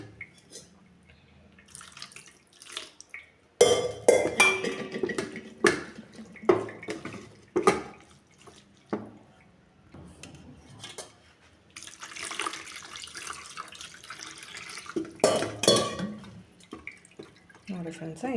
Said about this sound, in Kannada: ಈ ಥರ ಮೇಲೆ ನೀರು ಹಾಕಿ ಕೈಯಾಡಿಸ್ಕೋಬೇಕು.